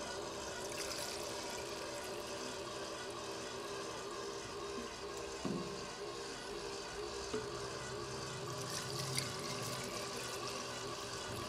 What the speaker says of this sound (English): And using the empty bottles, we are going to fill these with clean flushing solution.